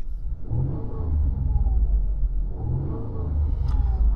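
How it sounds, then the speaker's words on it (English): The Duratec V6 engine of a Ford Mondeo III ST220 runs steadily nearby, a smooth low rumble with slight swells in revs and no talking. "let's hear about the sound of the engine"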